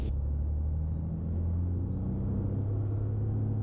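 A light aircraft engine held at full power for takeoff gives a steady, deep, droning rumble that stays constant throughout, moderately loud with no voices.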